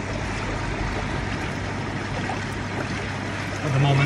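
Water drains steadily out of a tank with the air still bubbling, a continuous broadband rush and trickle that holds even throughout and swells slightly louder near the end.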